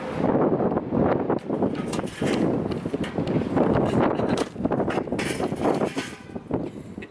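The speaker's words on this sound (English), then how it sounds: "it's windy, so the sawdust is kicking up" Gusty wind buffeting the microphone with a rough, rumbling roar and kicking up sawdust, steady throughout with occasional rattling mechanical clicks.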